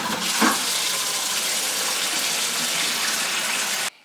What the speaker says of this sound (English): I'm going to fill this 5-gallon bucket halfway full with